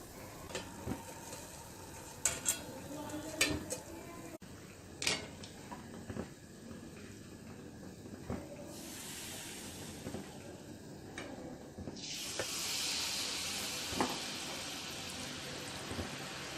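Eggless rose cookies frying in hot oil over a medium flame, a steady sizzle with occasional bubbling swells and clinks of the metal mould, no voices.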